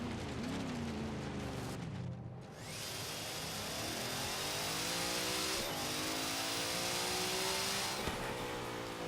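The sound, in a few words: turbo spool of '55 Chevrolet Bel Air in Forza Horizon 3 video game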